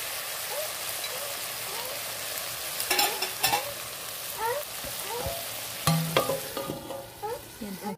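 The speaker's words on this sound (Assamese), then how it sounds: "ধুনীয়াকৈ লৰাই দিম" Broiler chicken meat frying in a pan, stirred constantly with a quick run of scraping, clattering strokes over a soft continuous sizzle, growing busier toward the end.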